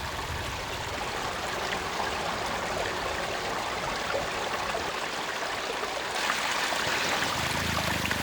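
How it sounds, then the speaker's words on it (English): A swollen river runs high after pouring rain, a continuous broadband rush of flowing water that stays steady and dense throughout, with no voices. "Because of the pouring rain, the river has swollen to a dangerous level"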